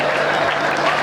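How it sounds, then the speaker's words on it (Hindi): Brief burst of steady audience applause at a Hindi hasya kavi sammelan, a comic poetry gathering, loud and dense throughout with a little talk over it. "ताली आपके लिए आ रही है"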